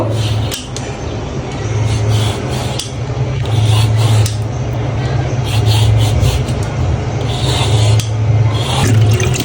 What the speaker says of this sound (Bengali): এদিকে আমি লাউগুলোকে ধুয়ে নিচ্ছি